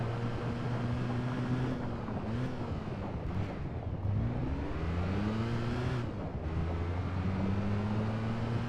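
Peugeot 306 S16 kit car in Gran Turismo 2, its engine revving continuously, pitch climbing and falling through gear changes with a steady loud drone throughout.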